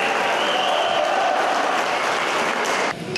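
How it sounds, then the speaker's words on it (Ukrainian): Hall audience applauding a kettlebell athlete at a village competition, dense continuous clapping filling the room, loud and steady before tapering off at the end. "Олександр показує результати, від яких зал аплодує стоячи"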